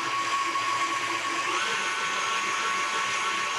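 An electric mixer beats cake batter with a continuous, even motor whir and a thin steady whine, moderately loud and close, with no voices.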